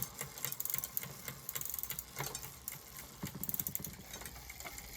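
A bicycle chain running through a freshly adjusted rear derailleur in top gear, a quiet rapid ticking and whirring that pulses unevenly, faint and close with no talk over it.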